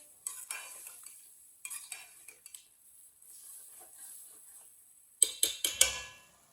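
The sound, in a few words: stirring and mixing chicken and pumpkin curry in a pot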